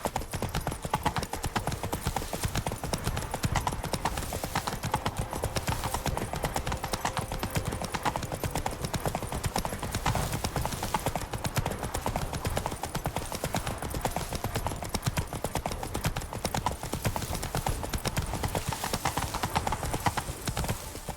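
Roach, the horse in The Witcher 3 video game, trots with steady rhythmic hoof clip-clops that run continuously throughout, with a faint occasional voice underneath.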